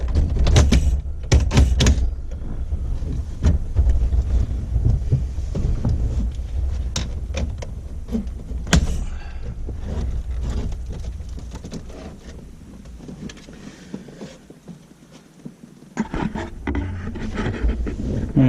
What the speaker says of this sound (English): So at this point, the radio should just pull out.